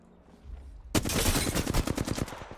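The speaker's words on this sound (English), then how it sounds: "They're shooting at me" Rapid automatic gunfire erupts suddenly in a video game firefight after a quiet moment, a loud, sustained stream of closely spaced shots continuing to the end.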